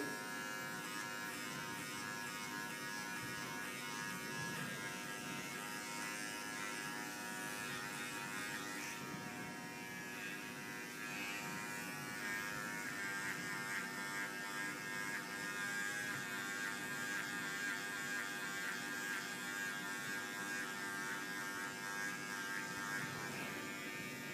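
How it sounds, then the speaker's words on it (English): Hair clippers buzz steadily at full extension while tapering a neckline, a close, even electric hum with slight changes in pitch as the blade moves through the hair, and no talking over it. "Okay, so clipper fully extended."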